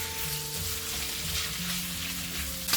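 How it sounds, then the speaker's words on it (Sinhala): Ingredients for a chicken and mushroom dish stir-fry over high heat in a pan, a continuous sizzle with soft stirring scrapes and a sharper clatter near the end. "මේ ටික දාගෙන දැන් අපි මේක විනාඩි 3ක් විතර මෙතන වැඩි ගින්නකට මේක පොඩ්ඩක් ෆ්‍රයි කරගමු"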